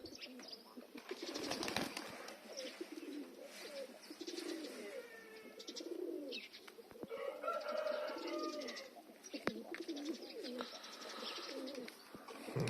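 Pigeons coo in a loft, Black Prince pedigree birds among them, with a steady outdoor bird chorus and soft rustling around them, no talk.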